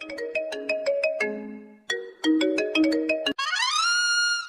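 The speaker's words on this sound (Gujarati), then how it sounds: "જો તો ફોન આવ્યો કોણ છે" A bright melodic phone ringtone plays loud and clear, a quick sequence of tones repeated twice, ending in a sustained chiming swell.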